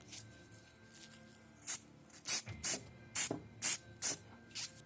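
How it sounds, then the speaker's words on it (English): A can of Citadel white spray paint undercoats a tabletop miniature in a series of short hissing bursts, about seven quick spritzes in a row, close and distinct over a quiet background. "we first undercoat the mini using a white spray, the Red Brown from Citadel"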